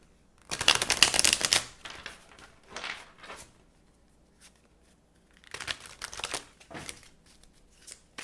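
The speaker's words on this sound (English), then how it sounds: "let's shuffle the cards for Pisces" Tarot cards shuffled by hand during a reading, heard close and alone as a dense crisp riffle burst, then quieter scattered shuffles, a pause, and another flurry of papery card noise.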